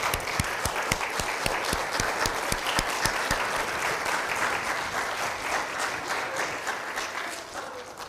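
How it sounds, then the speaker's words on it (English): Sustained audience applause at a fall university convocation, honoring the staff as they stand. Dense, steady clapping from a large crowd fills the whole stretch and eases slightly toward the end, with no talk over it. "Give them a big round of applause."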